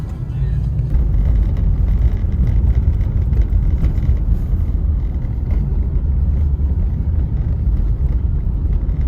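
A car driving on snow in Oymyakon, Russia, heard from inside as a loud, steady low engine and road rumble that continues without break.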